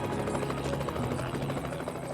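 Helicopter in the video game Dead Rising: a steady, muffled rotor drone holds at low volume throughout, even and unbroken with no voices over it.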